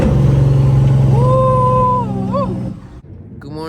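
A classic Peterbilt 379 truck downshifting with engine braking: a loud, steady diesel drone with rising and falling whining tones that cut off near the end, close by.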